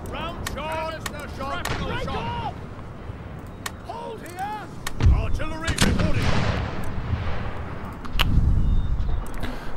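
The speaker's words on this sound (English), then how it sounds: "Artillery reporting." Cannon blasts from Empire Total War artillery come as several heavy booms amid battlefield noise, with voices and shouted chatter heard throughout.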